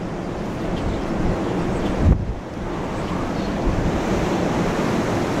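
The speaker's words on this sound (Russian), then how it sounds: "Вот сейчас был порыв ветра, меня прямо ветром ударило и качнуло камеру." Strong, cold wind at an apiary roaring against the microphone in a steady, loud rush, with a sudden gust buffet partway through that shakes the camera.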